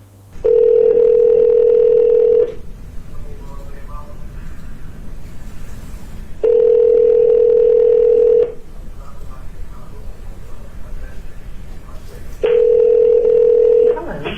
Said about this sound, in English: Prosecutors played recordings of phone calls Brazier made while awaiting trial.